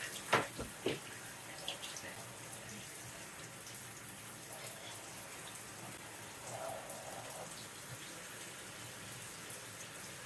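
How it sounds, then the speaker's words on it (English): Shower water running over houseplants, a continuous splashing, pattering spray with a few sharper drips and knocks near the start, moderately close and steady throughout. "Now we're gonna turn off the water and dry everything off."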